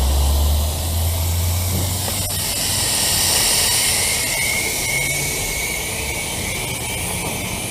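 Air hisses steadily out of a tire being deflated on a Chevrolet Traverse during a custom wheel install, a loud, close, continuous rush that holds for several seconds with a brief low thump at the start.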